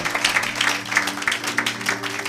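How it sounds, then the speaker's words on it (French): A church congregation claps during a Sunday worship service, a rhythmic, steady applause with regular beats, moderately close and continuous, over a low sustained hum. "acclamez pour la gloire de notre Dieu, de notre Seigneur."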